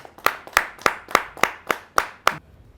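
Eight evenly spaced, crisp handclaps ring out at a Hindi poetry gathering as a poet is welcomed, close and distinct with short decays and quiet gaps between them.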